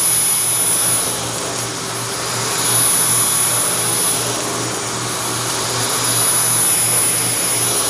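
Dyson V10 cordless vacuum cleaning a heavily soiled carpet full of dirt, dust and pet hair, a loud continuous motor whine with a high tone, swelling slightly with each pass.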